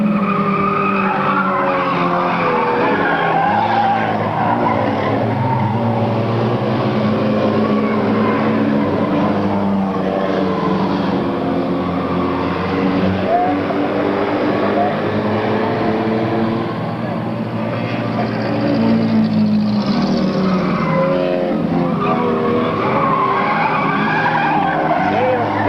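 Race cars roar steadily down the backstretch of an oval track during a 1998 stock car race, loud continuous engine drone throughout with an announcer talking over it.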